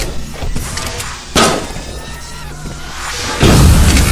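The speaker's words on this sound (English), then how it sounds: "Oh my god, the explosions are so good!" Explosions burst in the VR shooter game Raw Data: a heavy boom near the start, a sharp crash mid-clip and a loud, rumbling blast toward the end, over a busy background of game noise.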